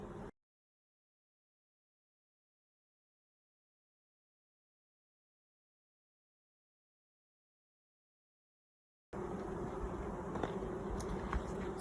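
Honeybees hum at an open hive after a queen in a California mini cage is added, a steady, close buzzing that starts abruptly after a long stretch of silence.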